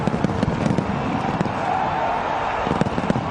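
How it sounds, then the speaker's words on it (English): Fireworks go off both up in the sky and down on the ground during a national celebration, a dense, loud barrage of crackling bangs and sharp pops that continues without pause. "Fireworks are off. They're banging away here, up in the sky, down on the ground."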